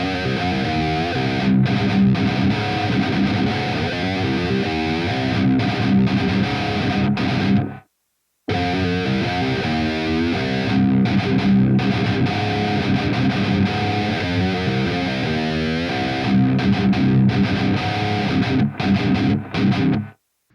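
A heavily distorted electric guitar plays a syncopated metal riff, first at full speed, then after a brief silence repeated more slowly, loud and alone.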